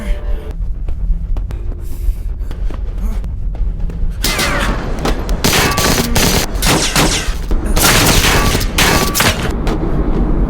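Gunfire in a movie shootout scene: a loud fusillade of rapid shots and booms that starts muffled under background rumble and then bursts into close, dense volleys, with a brief voice mixed in.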